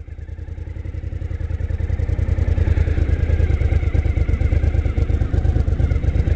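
A motorcycle engine pulls away in first gear as the clutch is let out with a little throttle, its close, loud pulsing exhaust beat rising steadily as it gets moving.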